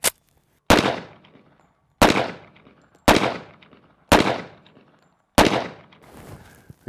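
Gunshots from a double barrel 1911 pistol fired outdoors, six loud sharp reports with echoing tails, spaced about a second apart at a steady pace.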